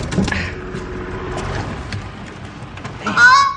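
A goose honks near the end of a short stretch of low, rumbling background noise, loud and close after a quieter start.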